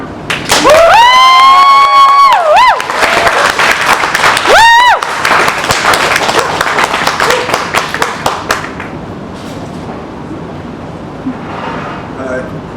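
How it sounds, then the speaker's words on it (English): Loud applause and clapping from a poetry-reading audience, with cheering whistles rising over it, then the clapping thins out and fades away. "I want to hear a loud applause. Please, can you put your hands together for Aaron?"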